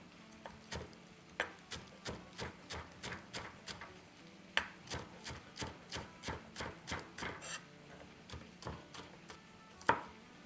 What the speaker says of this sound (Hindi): और अब लेंगे हरी प्याज, नीचे से काट लेंगे